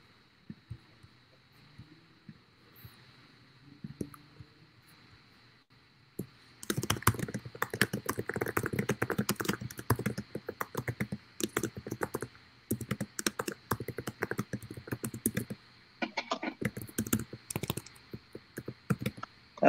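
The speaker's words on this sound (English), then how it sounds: "That's some clicky keyboard." Rapid, clicky keystrokes on a mechanical computer keyboard type in bursts, fairly close and steady, with a constant faint hum beneath.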